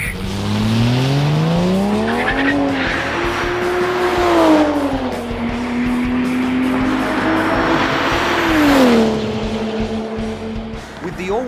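A turbocharged six-cylinder Ford F6 Typhoon, making 360 rear-wheel kilowatts through an automatic gearbox, revs loudly and climbs through gear changes, its engine note rising, dropping and rising again up close.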